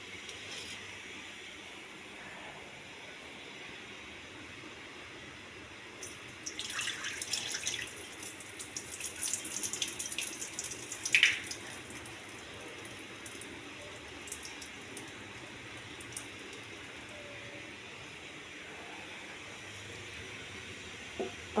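Soaked millet rice being washed in water, quiet at first, then a burst of splashing and trickling in the middle before it settles back to near silence, with no speech.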